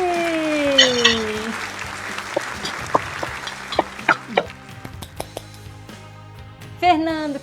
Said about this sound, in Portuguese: Palmas pra gente!